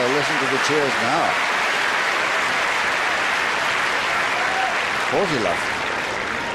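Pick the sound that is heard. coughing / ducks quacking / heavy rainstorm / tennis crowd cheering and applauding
tennis crowd cheering and applauding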